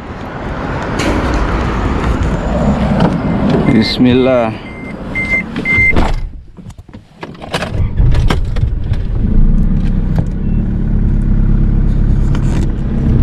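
A car drives along a road near Misfalah in Makkah, its engine and road noise steady and loud from inside the vehicle, with a brief beeping and someone speaking over it.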